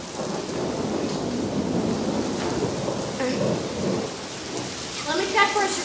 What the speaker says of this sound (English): this really looks like a severe thunderstorm to me